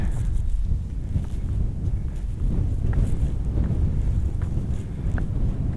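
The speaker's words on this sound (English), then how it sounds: "I'm so glad the wind is blowing me back away from the cliff instead of from behind me towards the cliff" Wind blowing hard on a mountain cliff on the Pemi Loop in New Hampshire's White Mountains, with steady loud rumbling gusts against the microphone throughout and no talking.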